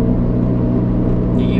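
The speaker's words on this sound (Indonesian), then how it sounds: "Nih, ini gigi 4, RPM 2000, gak ngelitik." Honda Brio Type R engine held in fourth gear at about 2000 RPM, a steady, smooth low drone that continues unbroken throughout, with no revving or gear change.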